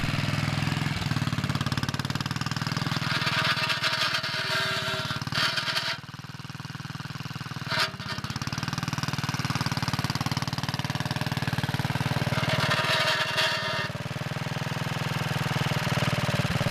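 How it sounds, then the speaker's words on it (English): A Wheel Horse Model 401 garden tractor engine runs loudly and steadily nearby with a constant rattle of a loose belt flopping against the belt guard, slowing briefly twice before picking back up. "it still has this annoying belt flop rattling against the belt guard"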